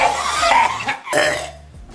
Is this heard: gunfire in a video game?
no